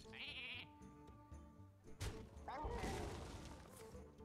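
Cartoonish sheep bleats from a polymorph effect in the Hearthstone card game, a wavering bleat followed by a crashing impact and a further bleating cry, under faint game music with someone talking in between.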